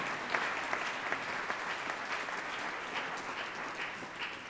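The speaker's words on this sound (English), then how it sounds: "we can go ahead and give them a round of applause" A forum audience at the Columbus Metropolitan Club applauds its panelists with a steady, moderately loud wash of many clapping hands and no talk over it.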